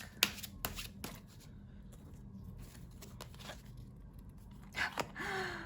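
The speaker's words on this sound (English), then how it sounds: "Let's just get a few cards from this deck." A deck of tarot cards is handled and drawn from, giving soft riffling and sliding snaps in a few short bursts, close and quiet, with no talking.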